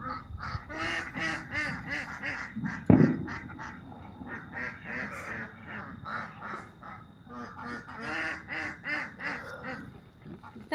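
Pet ducks quacking in a continuous, rapid chorus of nasal calls close by, with one sharp thud partway through.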